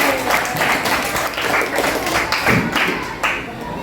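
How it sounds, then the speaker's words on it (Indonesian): A class of students claps for a group in a school session, brisk, close applause with individual hand claps audible, continuing throughout and mixed with a few voices. "Berikan tepuk tangan untuk Pak 6 ya."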